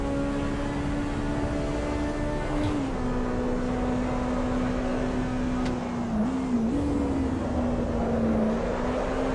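A race car engine in Assetto Corsa EVO holds a steady, loud drone with small pitch dips as it is short-shifted through gears, continuous and close without talk.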